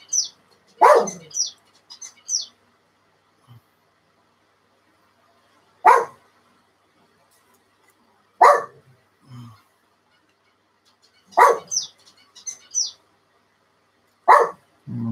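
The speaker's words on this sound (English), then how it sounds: "Apologies for the dog." Dog barking indoors during a model-building session, several sharp separate barks and yelps spaced a few seconds apart, fairly close and loud against quiet between them.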